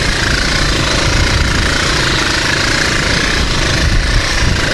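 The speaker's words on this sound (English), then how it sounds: "It is not possible to go with a car, so we took a motorcycle." A motorcycle engine drones steadily and loudly throughout a ride along a rough route between two Central African nations, with constant roaring noise and no speech.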